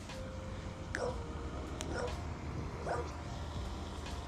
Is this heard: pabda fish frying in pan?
no